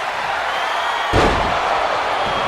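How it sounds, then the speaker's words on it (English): A powerbomb in a wrestling video game lands in the middle of the ring with a single loud, booming slam, then a brief rumbling decay over steady crowd noise. "Powerbomb square in the middle of the ring"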